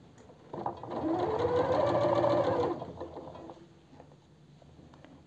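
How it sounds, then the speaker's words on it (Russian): A sewing machine runs a seam out to the fabric edge while a women's vest is sewn, stitching in a steady mechanical whir for about two seconds, then slowing and stopping with faint clicks afterward; no voices. "И вот мы строчим до края."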